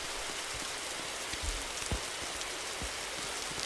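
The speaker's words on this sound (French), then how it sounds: "Faut qu'il arrête de pleuvoir." Rain in a Roblox forest survival game falls as a steady soft hiss with scattered louder drop taps, fairly quiet and continuous, with no talking.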